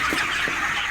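Broiler chickens about 35 days old crowd a full farm shed, their dense, steady flock chatter and clucking filling the space at close range with no talk over it.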